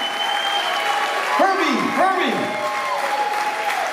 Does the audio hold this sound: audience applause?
yes